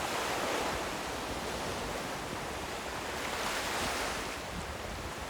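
Steady wash of surf and wind on a Scottish beach, a constant broad roar with gusts buffeting the microphone and no distinct pauses.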